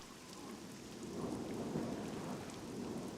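Steady rain with a low rolling thunderstorm rumble in the survival game SCUM, a continuous dense wash swelling slightly in the middle, no voices.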